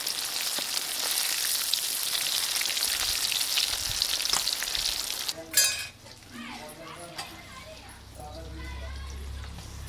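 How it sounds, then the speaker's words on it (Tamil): Fish sizzles and crackles in hot oil with homemade chili powder, a loud steady frying hiss that cuts off partway, followed by utensil clinks and a low rumble. "வீட்டு மிளகாத்தூளை வச்சே நம்ம வந்து மீன் வறுக்கலாம்."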